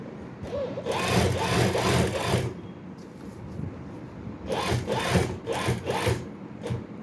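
A sewing machine stitches a kurta in two long runs of steady rapid mechanical whirring, close and fairly loud, with a short quieter pause between them and no talking over it.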